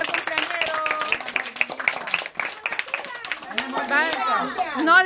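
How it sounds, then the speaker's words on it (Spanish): Scattered clapping and cheering at a lively birthday party, mixed with voices, chatter and shouts, uneven and fairly close. "aplausos para el primer cumpleañero"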